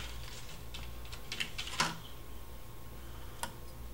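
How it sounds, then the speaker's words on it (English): A RAM module snaps into the memory slot of a Toshiba L45 laptop with one crisp, close click, set among light plastic ticks and taps from handling the parts. "push down until you hear it click"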